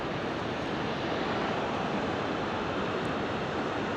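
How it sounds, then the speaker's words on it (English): Yosemite Falls roars steadily, a dense, loud, unbroken rush of falling water that fills the whole moment without pause. "this waterfall is awesome"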